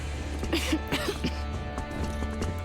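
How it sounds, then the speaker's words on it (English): Several hoarse coughs and throat-clearing sounds in quick succession from a character in Metro Exodus, over a steady low background hum and faint game ambience. "anyone gonna point out the constant coughing from Anna there?"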